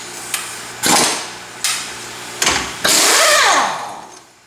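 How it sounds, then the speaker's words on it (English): A loud power tool, likely an impact wrench, comes off a Jeep axle nut during a repair for a bad wheel bearing. It fires in several short, harsh bursts before one longer roar that winds down. "We're going to take the axle nut off. It should come pretty easy. It's going to get really loud here for just a second."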